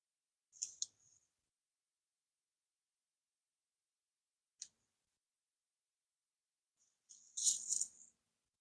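Scissors snip through herb stems while pruning a lemon balm plant above new growth, a few short, crisp cuts separated by pauses, ending with a louder rustling snip close by.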